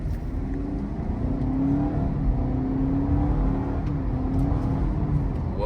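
A 2025 Honda Civic Touring Hybrid pulls away under acceleration, a smooth low whir and motor hum rising gradually in pitch, heard from inside the car, steady and moderately loud with no talk.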